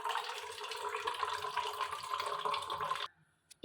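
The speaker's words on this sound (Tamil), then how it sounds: "இப்போ தண்ணி பிடிக்கணும்." Tap water pours steadily into a container in a kitchen sink for about three seconds, a loud continuous rushing that stops abruptly, followed by a couple of small clinks.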